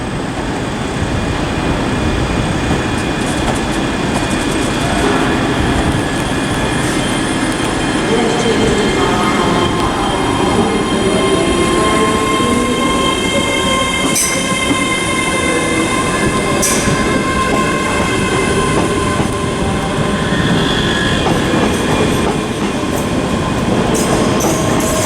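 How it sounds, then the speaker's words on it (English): ScotRail Class 385 electric trains at Glasgow Queen Street station, a steady loud rumble of rolling stock and station ambience throughout, with a few brief metallic squeals and clicks from the wheels. "What's also about to depart is the 12:15 ScotRail service to Edinburgh, which is 385116."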